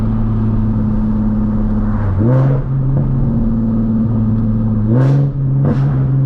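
A loud, close Nissan 370Z engine with Tomei aftermarket intakes drones steadily, with sharp revving surges that rise and fall twice, each bringing a rasping intake whoosh.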